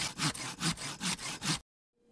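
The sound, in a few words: hand saw sawing wood after setting and sharpening the teeth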